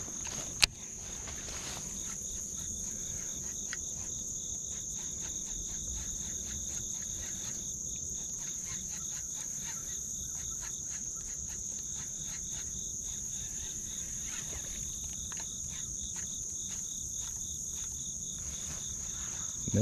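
Crickets chirp steadily beside a pond on a fall day, forming a constant, even trill with rapid pulsing that runs for the whole stretch under quiet ambient noise.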